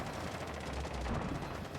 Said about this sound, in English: A lot of gunfire coming out, not a lot of kills so far though